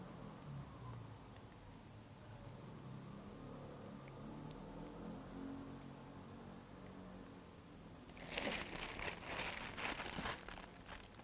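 A plastic bag liner crinkles loudly as it is pulled from a Potette Plus portable potty, a burst of crackling after a long stretch of faint rustling.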